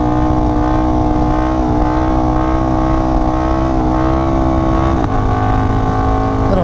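A KTM 1290 Super Duke motorcycle accelerates hard in second gear to lift a wheelie, its loud, close engine climbing steadily in pitch, then dipping briefly near the end before pulling on.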